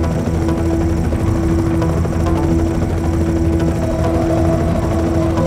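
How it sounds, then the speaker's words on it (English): An armed helicopter in the Knight Rider 2 video game on PS2 produces a loud, constant engine whir with a steady humming tone. It runs unbroken throughout with no speech. "that helicopter is heavily armed"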